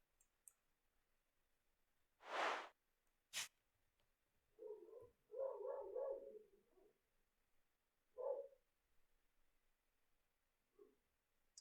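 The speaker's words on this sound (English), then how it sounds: "Sorry if you can hear the dog barking." A dog barking in a quiet room, faint and somewhat distant: a short cluster of muffled barks followed by a couple of isolated ones, with a few sharp clicks nearby.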